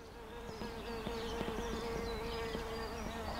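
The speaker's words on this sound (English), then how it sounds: "we might be able to hear her buzzing" A wild bee buzzing while it digs in a shallow nest hole, a close, steady insect drone with small wavering shifts in pitch, quiet and heard on its own.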